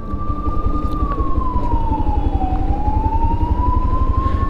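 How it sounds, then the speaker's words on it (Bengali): An ambulance siren wails in one long, slowly falling then rising tone as it moves through a jammed road, loud and close over the rumble of idling traffic, with no voices. "ওই অ্যাম্বুলেন্সটা যাচ্ছে"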